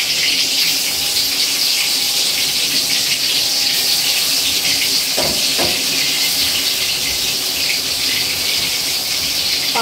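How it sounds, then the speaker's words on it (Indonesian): Tempeh frying in hot oil gives a steady, loud sizzling hiss throughout, with a brief clatter partway through and no talking. "Mau goreng tempe."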